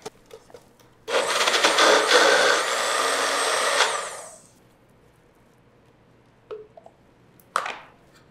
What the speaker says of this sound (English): And then I blend it with a little bit of almond milk or whatever milk.